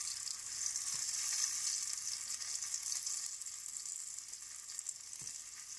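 Potatoes frying on a hot griddle beside pork loin strips, a steady, bright hiss of sizzling oil heard close up and alone, with a couple of faint low knocks.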